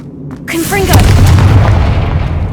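A Confringo explosive spell from Hogwarts Legacy goes off with a loud, near boom. A single sharp burst is followed by a rumbling decay, with a voice calling out just before the blast.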